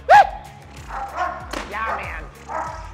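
A young protection-dog puppy named Kojak lets out a sharp bark during training, followed by excited whoops and voices from people nearby.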